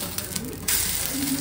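Onion omelette sizzling in a pan as it is flipped, a brief bright hissing fry that swells louder partway through, close up with no talking.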